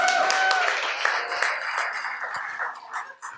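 An audience cheering and clapping for a storyteller at a live listener event, a bright burst of applause and whoops that gradually fades out over a few seconds.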